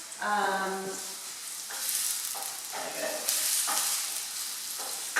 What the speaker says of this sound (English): Just hear my onions frying away